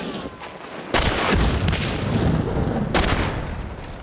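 Two loud, booming shotgun blasts ring out in a video game shootout, each sharp report followed by a lingering rumble, spaced about two seconds apart.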